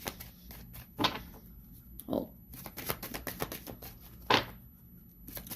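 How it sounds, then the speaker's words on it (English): A deck of tarot cards is shuffled in soft, quick riffling bursts, quiet and close, with a brief exclamation from a voice. "I'll do one more shuffle."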